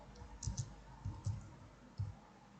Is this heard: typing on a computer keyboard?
yes